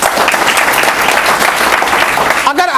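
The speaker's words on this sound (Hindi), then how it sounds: "अपने लिए जोरदार ताली बजाओ" An audience at a Vestige gathering claps loudly and continuously in a dense burst of applause that cuts off abruptly near the end.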